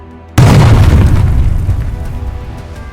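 A single loud explosion hits suddenly, a deep booming blast that rumbles and slowly fades, used as a sound effect in a manga voiceover.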